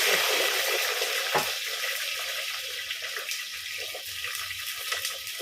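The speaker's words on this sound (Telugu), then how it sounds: "నూనె కాగినాక ఇప్పుడైతే పచ్చిమిర్చి వేస్తున్నా పచ్చిమిర్చి" Green chillies fry in hot oil, giving a steady broadband sizzle with faint water-like crackle and a brief clatter near the start, close and continuous throughout.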